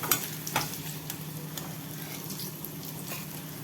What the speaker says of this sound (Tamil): இப்போ இந்த வெங்காயமும் வெள்ளைப்பூடும் பார்த்தீங்களா நல்லா வதங்கிடுச்சு